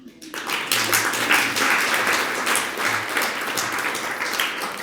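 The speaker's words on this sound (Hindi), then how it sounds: "ताली क्यों बजाई?" An audience at a religious discourse breaks into applause, quickly rising to a dense, sustained patter of many hands clapping that holds steady before easing slightly.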